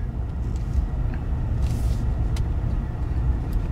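Car engine under wide open throttle, a loud continuous low rumbling roar from inside the cabin with a brief hiss partway through, no talking.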